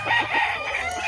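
A fighting rooster at a gamecock yard crows and clucks up close, a loud continuous rasping call with steady farmyard noise beneath.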